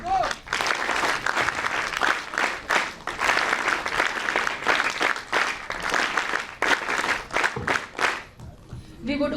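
Sustained audience applause fills a hall at the inauguration of the NSS NSUT National Integration Camp in Delhi, a dense, steady clatter of many hands lasting throughout with small surges, fading at the very end.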